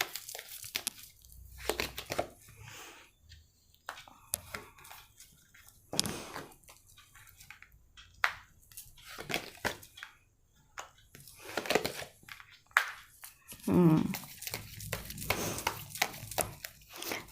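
Tarot cards drawn and handled on a table, giving soft, scattered rustles, flicks and snaps that are faint and intermittent.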